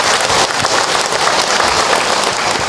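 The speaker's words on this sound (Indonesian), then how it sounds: "Tepuk tangan buat semua bunda yang ada." Dense, loud applause from a large audience at an Islamic religious lecture, continuous clapping filling the whole stretch evenly with no voices over it.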